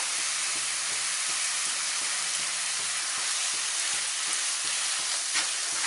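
Bottle gourd halwa with condensed milk and sugar being stirred in a hot pan, with a continuous hissing sizzle and a rhythmic series of spoon scrapes, close and unaccompanied by speech.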